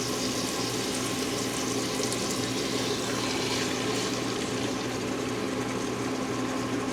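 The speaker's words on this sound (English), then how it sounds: "got the pan nice and hot. We're hoping to hear a nice sear." Steaks searing in a hot, oiled pan give a loud, steady, close sizzle that holds constant throughout, with no talking.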